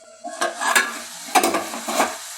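Chopped tomatoes frying in a pan for brinjal curry, a soft sizzle broken by three or four scraping stirs of a spoon against the pan, close and quiet.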